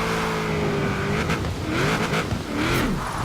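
A Nissan S14 drift car in the Forza Horizon 4 video game revs loudly and continuously, its engine pitch sweeping up and down as it drifts along a road, with some tire squeal.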